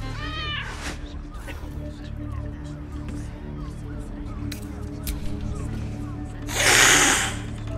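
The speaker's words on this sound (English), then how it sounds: "most of the cats will not give you the option to pet them or will hiss at you" Cats in the Baldur's Gate 3 video game give short meows and one louder, breathy hiss-like cry near the end, heard over a steady game soundscape of low hum and faint ambient tones.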